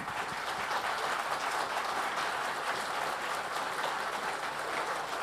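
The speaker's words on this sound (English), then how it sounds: "that's drawn a bit of an applause" Steady applause from an audience at an automotive industry summit, a dense, even wash of clapping that holds at moderate loudness for about five seconds with no voices breaking through.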